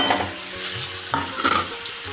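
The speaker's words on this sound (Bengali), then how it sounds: "পেঁয়াজটা বেরেস্তা করে নেব।" Onions frying in oil in a pan until golden brown, being stirred after fish was fried in the same pan: a close, continuous sizzle broken by a few scraping stirs, with no voices.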